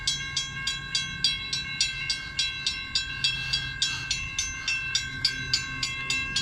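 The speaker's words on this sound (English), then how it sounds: "Here it comes! Here comes this train!" At the activated Parsons Avenue railroad crossing, the warning bell dings in a steady, evenly spaced rhythm, close and prominent, while a low rumble from the approaching train builds underneath.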